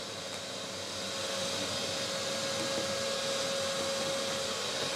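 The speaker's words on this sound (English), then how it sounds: "Hoover it a while once more." A vacuum cleaner hoovers dust off a wooden workbench, a loud continuous steady whine and rushing airflow that runs without a break.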